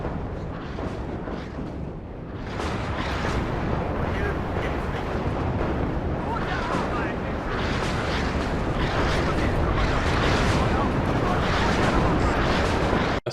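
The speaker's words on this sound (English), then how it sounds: "So much rocket artillery flying all over the place." A relentless barrage of rocket artillery fire in the Cold War strategy game WARNO: dense, overlapping booms and roaring launches blur into one loud, continuous rumble, with faint voices underneath.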